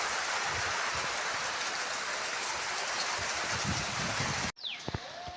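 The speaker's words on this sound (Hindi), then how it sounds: "देखु केते जोरे वर्षा होगी" Heavy monsoon-style rain pours down in a village setting, a dense, loud, constant hiss of drops and runoff that cuts off abruptly near the end, followed by a few faint clicks.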